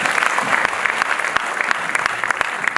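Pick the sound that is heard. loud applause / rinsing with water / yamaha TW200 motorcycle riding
loud applause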